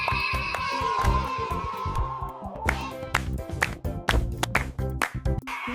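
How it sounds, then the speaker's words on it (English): Hands clapping in a children's alphabet song about animals, several sharp claps scattered through the second half over bright music, fairly soft overall. "Everybody clap! Clap!"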